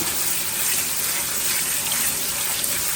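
Rehydrated shellie beans are rinsed under a running tap, a loud, steady gush of water splashing continuously and close up, with no talking.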